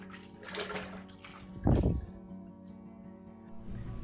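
Lukewarm water is swished by hand in a basin to spread a small dab of soap before washing handspun yarn, with a brief louder slosh midway amid gentle splashing.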